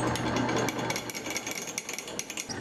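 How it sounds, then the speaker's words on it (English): A drill press bores through a round steel tube in a workshop on a V8 pro touring Triumph GT6 build, a harsh continuous grinding and chattering close up that pulses unevenly and stays loud alone. "after pre-drilling it, we can head over to the drill press"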